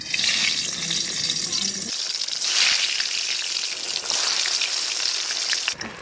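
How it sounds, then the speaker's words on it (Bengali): Eggplant slices dropped into hot oil in a wok crackle and sizzle in a steady, loud hiss with a sharp burst near the middle, close by, with no talk. "এখন তেলের মধ্যে বেগুনটা দিয়ে দিচ্ছি।"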